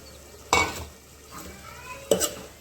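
Potatoes dropped into a pan of tomatoes simmering with a little added water, giving two distinct stirring and scraping bursts over a low bubbling bed, close and moderately loud with no voices.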